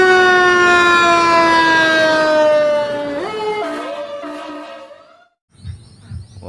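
A toy fire truck's electronic siren wails loud and steady with rich harmonics, then warbles and drops in pitch before cutting out, followed by faint rattling handling noises.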